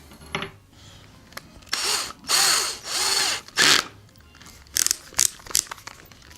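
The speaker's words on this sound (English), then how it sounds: "start with a small drill to drill a pilot hole right in the center here" A small power drill whirs in several short bursts, spinning up and down as it drills a pilot hole in the center of a bass speaker, followed by a few scraping, clicking sounds nearby.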